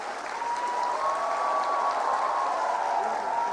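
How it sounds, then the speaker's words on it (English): Audience applause for women award recipients at a talk on menstruation stigma, a steady dense wash of clapping from a crowd lasting a few seconds, with a faint voice under it. "Let's have a bigger round of applause."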